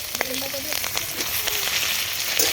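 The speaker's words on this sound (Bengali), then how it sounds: "এবার ভালো করে ভেজে নেবো এটা" Garlic, onion, dried chilli, cumin and coriander leaves sizzle and fry in a pan for a cauliflower and eggplant bharta, a steady close crackling hiss with small pops, and a voice briefly murmurs over it.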